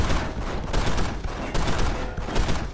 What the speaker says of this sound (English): I've killed no one and I'm being shot to bits.